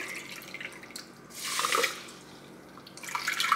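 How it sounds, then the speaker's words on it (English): Water poured into an Instant Pot holding steel cut oats, a brief splashing pour swelling in the middle and again at the end, close and fairly soft. "along with 5 cups of water"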